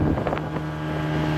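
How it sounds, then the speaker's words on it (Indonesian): Motorboat ride on Lake Sarangan, a steady motor hum under rushing wind noise against the microphone, loud at first and then settling into a constant drone. "kita motor boot di Telaga Sarangan"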